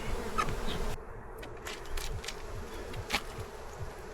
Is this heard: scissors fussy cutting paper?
no